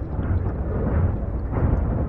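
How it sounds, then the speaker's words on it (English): A missile blast in the video game Bioshock 2, a loud, close, sustained low rumble lasting about two seconds that swells again near the end, with no talk over it. "Somebody just fired a freaking missile at me."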